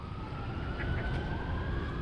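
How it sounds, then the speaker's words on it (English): Distant sirens wail faintly as a thin steady tone over a low rumbling wind and background noise, heard outdoors with no talking. "Oh, you can hear sirens."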